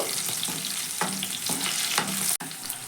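Eggs fry in hot oil with a steady crackling sizzle, broken by a few soft scraping stirs and one sharp click.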